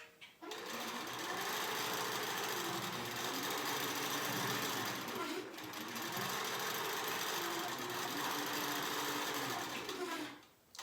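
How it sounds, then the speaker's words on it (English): A QCT5 Pro quilting machine stitching steadily for about ten seconds, its fast mechanical hum continuous and close, starting and stopping cleanly with no talking. "So then I'm going to let it go ahead and start stitching."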